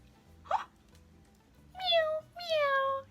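A person imitates a cat, voicing two drawn-out meows after a short vocal sound, close and clear with no other talk.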